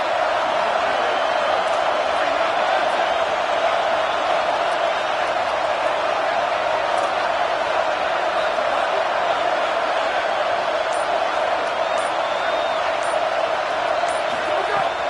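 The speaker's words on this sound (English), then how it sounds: "Decibels rising as the crowd gets behind this defense on third down." A stadium crowd in a College Football video game gives a steady, roaring wall of cheering noise on a defensive third down, constant and loud throughout, with a commentator's voice over it.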